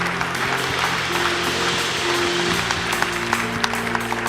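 A church congregation claps together in a dense, sustained round of applause, loud and close, with a low organ or keyboard drone underneath.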